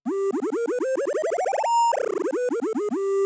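A bright synth note stutters in rapid pulses while its pitch slides upward, jumps, then sweeps back down before settling on a steady tone.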